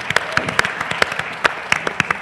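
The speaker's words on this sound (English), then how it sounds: "But round of applause then for Shwowp." An audience at a startup pitch competition claps for a demo, with sharp, distinct hand claps from a modest crowd forming an uneven patter of sparse applause.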